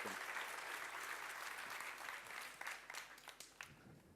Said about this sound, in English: giving a round of applause for our guest today, Professor Stephanie Kelton